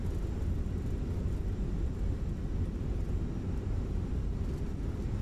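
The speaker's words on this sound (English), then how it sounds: "Reverse. Light touchdown with the nose." An airliner rolling out after landing with reverse thrust engaged in a flight simulator, a steady dense engine roar and rumble, loud and unbroken with no voices heard.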